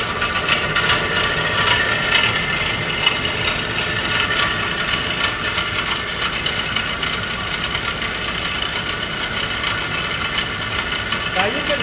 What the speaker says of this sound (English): So I'll stick it on drive now and it'll start making the next cut.